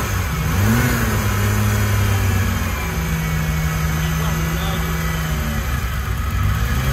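A BMW E36 turbo engine with a new camshaft revs briefly and then settles into a steady drone, loud and close, while people talk over it.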